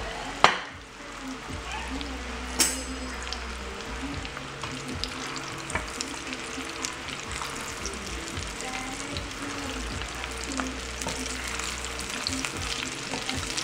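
Mozzarella sticks fry in hot oil with a steady, dense sizzle and bubbling that runs throughout, punctuated by a couple of sharper clinks near the start; no one speaks.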